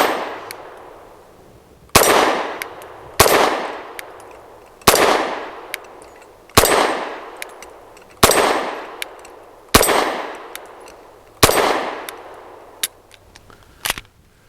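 A Walther PDP F Pro 9mm pistol with a 3.5-inch barrel fires MagTech ammunition, eight sharp, loud reports spaced about every one to two seconds, each with a short ringing tail, and a faint metallic clink near the end.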